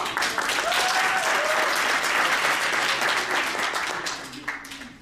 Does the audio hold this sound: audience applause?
yes